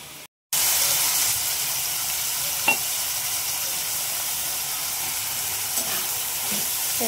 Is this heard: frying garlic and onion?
yes